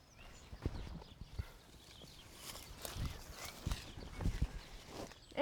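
Horse hooves clip-clop on the ground as a rider travels with a second horse in tow in a Western film, giving uneven, moderately close hoofbeats over a quiet background.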